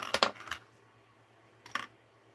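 Scissors snip the loose ends of thread during a mixed-media craft session, a few quick close clicks at the start and one more snip about a second later, faint against a low steady hum.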